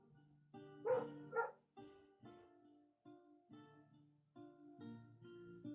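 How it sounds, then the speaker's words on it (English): A dog barks several times from somewhere nearby. The barks come in short uneven bursts with whimpery, yipping tones between them, and no voices can be heard over them. "What I'd like to question is what the hell my dog is barking at"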